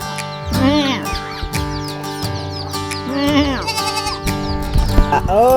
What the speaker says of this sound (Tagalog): Kaso merong isang kambing dito na napakakulit.